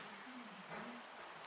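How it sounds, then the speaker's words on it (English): Steady rain falls around a garage where a Honda HRX217HYU lawn mower sits, a soft, even hiss of drops on surfaces that carries on without a break at low volume. "It's raining."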